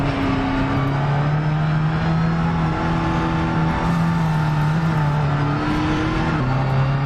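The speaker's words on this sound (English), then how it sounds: "So you can hear these cars." TCR touring race cars in a racing sim video game drone continuously at high revs, a steady loud buzzing hum with slight pitch shifts, no voices.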